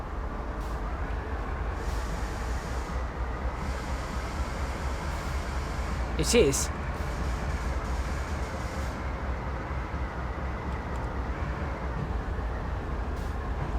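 A CSX heavy haul freight train in Train Sim World gives a steady low rumble and hum throughout, with a brief metallic squeal near the middle, while someone speaks very briefly.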